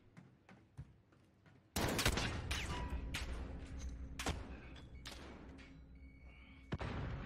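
Shotgun blasts boom in a Call of Duty: Modern Warfare one-on-one gunfight, a sudden loud shot followed by several more sharp reports with echoing tails, after quieter footsteps and clicks.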